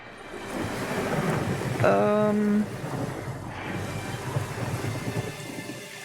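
Thunder and rain from The Witcher 3 fill the whole stretch as a steady broadband wash of rainfall with low rumbling, while a brief tonal in-game sound stands out near the middle. No one speaks.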